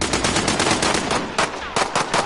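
Rapid automatic gunfire from the video game Warzone rattles in loud, close bursts with brief gaps between them.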